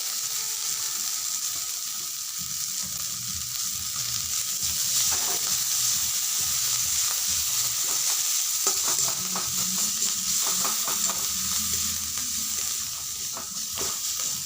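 Paratha filling seasoned with chili powder and chopped coriander is stir-fried in a pan, giving a steady sizzle with scraping, stirring sounds and no talking.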